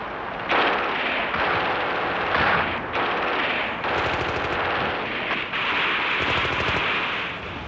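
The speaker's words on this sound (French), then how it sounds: "Parfois, une mitrailleuse ennemie vient interrompre la progression." Bursts of enemy machine gun fire crackle in rapid, repeated volleys from old wartime archive footage, loud and sustained with brief gaps between strings of shots.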